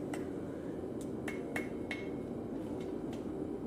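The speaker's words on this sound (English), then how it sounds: "a good sharp edge of the anvil is a great way of opening up a split like that" A hammer strikes steel on the sharp edge of an anvil while a split is opened up for a forged movie prop, giving several distinct metallic rings spaced about a third of a second apart over a quiet room hum.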